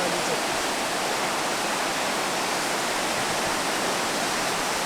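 Water rushes steadily out of traditional water-mill huts along the Kailash Mansarovar route, a loud, continuous broadband roar like a stream or small waterfall, with no voices.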